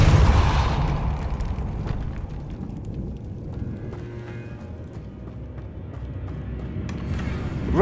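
A Depulsor spell cast in Hogwarts Legacy opens with a sharp booming burst that decays into a low rumbling tail, with a smaller pop near the end.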